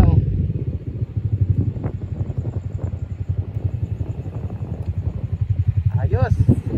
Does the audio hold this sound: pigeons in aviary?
no